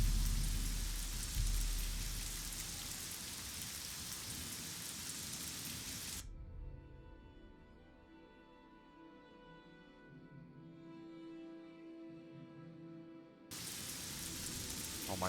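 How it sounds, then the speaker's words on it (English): Rain falling in the Fallout or Oblivion video game, a steady broadband hiss that drops away in the middle while quieter tonal game sounds play, then returns at full strength near the end. "Oh my god, why is it raining everywhere?"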